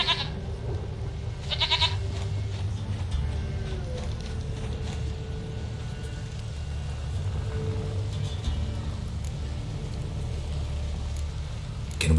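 A goat in The Witcher 3 video game gives a couple of short bleats early on amid a continuous low rumbling game ambience, fairly faint against the background.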